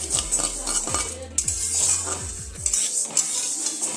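Lentils lightly frying in a pan for khichuri, stirred with a metal spoon that clinks and scrapes against the pan in repeated strokes over a soft sizzle, close and fairly loud, with no voices.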